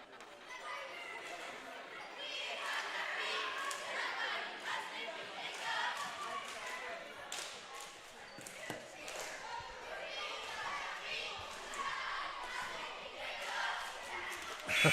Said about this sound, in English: Chanting, it sounded like, from the home side